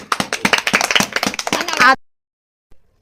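A small group claps hands together to reward the winner of a children's egg game, with rapid, overlapping claps mixed with talking for about two seconds before stopping abruptly into silence.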